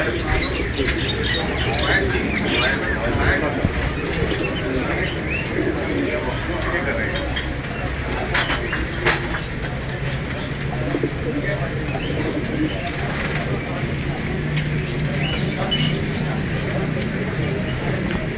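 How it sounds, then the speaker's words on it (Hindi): Pigeons coo repeatedly amid a busy, noisy egg market in Saddar, Karachi, with voices and general bustle mixed in throughout. "कबूतर ही कबूतर।"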